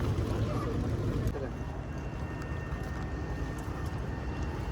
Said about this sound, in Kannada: ಗಾಯ್ಸ್ ನೋಡಿ ಫೈನಲಿ ಬಂದಿದ್ದೀವಿ ಬೋಟ್ ರೈಡಿಗೆ